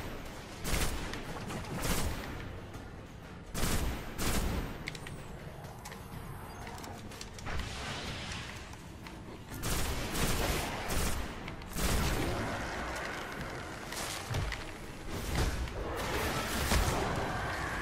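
Gunfire in the video game Destiny crackles in repeated sharp bursts and volleys throughout, dense and loud, with a player's voice occasionally breaking in over the shooting.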